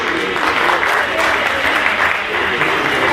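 A large audience at an Indonesian political gathering claps steadily and loudly throughout, a dense continuous applause with a faint crowd murmur beneath it.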